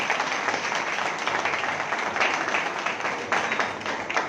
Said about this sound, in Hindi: एक बार सर के लिए जोरदार तालियां।